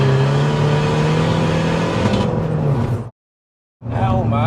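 Tuned 353 bhp Skoda Fabia vRS accelerating hard, a loud rising engine drone with a whine climbing in pitch, then a brief cutout and the engine pulling again.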